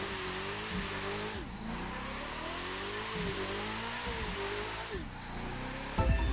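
A video-game car drifting with drift assist set to full, its engine droning and revving in rising and falling sweeps with brief tire squeals, steady and close throughout, with a voice speaking over it.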